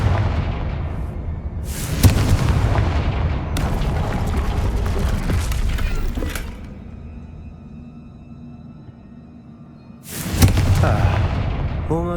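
Confringo spell blasts in the Hogwarts Legacy video game, a series of loud booming explosions with crackling debris, one near the start and another near the end, with a quiet stretch between.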